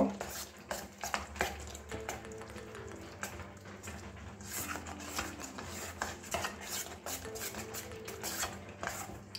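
Spices such as coriander powder and turmeric being mixed into a vegetable paratha filling, with soft repeated scraping and clinks of a utensil against a bowl under intermittent talking.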